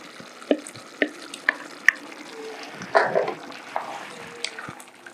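Liver with Royco cubes frying in a pot for a liver stew: a soft sizzle under a few distinct knocks and scrapes of a spoon stirring, close and fairly quiet.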